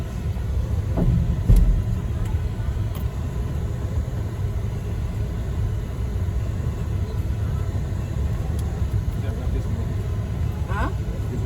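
A car driving on a road in Brewersville, Liberia, with a continuous low engine rumble and road noise close by, plus a few faint clicks and knocks.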